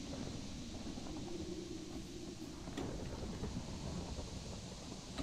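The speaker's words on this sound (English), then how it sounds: "Now this storm is coming in our direction." A thunderstorm rolls in within a Minecraft tornado mod, heard as a faint, steady wash of rain and wind with a low rumble and a brief crackle near the middle. No one speaks.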